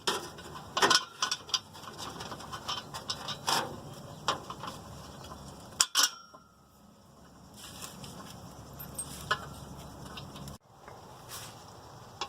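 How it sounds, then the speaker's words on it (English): Ratchet clicking in short bursts while bolts go back into a 2.4 Volvo V70 exhaust during catalytic converter replacement, close and fairly loud, with metallic taps and pauses between runs and no talk. "So now we're just going to reinstall some of the bolts that we took out"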